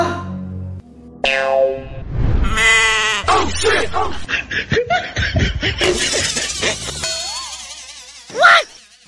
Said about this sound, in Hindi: नहीं, ये बकरी है, इसको खेत में चराने जा रहे हैं।